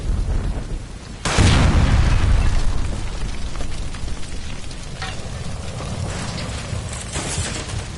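A gas line blows up in L.A. Noire with a sudden loud, deep boom, followed by a long roaring rumble and crackling debris that gradually thins out.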